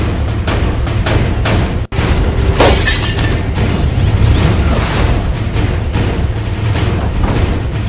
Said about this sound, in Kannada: ಡೈನಮೈಟ್ ಸ್ಫೋಟಕ್ಕೆ ಬೆಚ್ಚ ಬಿದ್ರು ಮಲೆನಾಡಿಗರು.